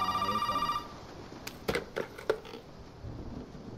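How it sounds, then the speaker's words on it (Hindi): An old telephone rings inside the derelict house in the horror game Resident Evil 7, a steady harmonic ring for under a second, then scattered thuds and knocks follow with no one speaking. "फोन आ रहा है।"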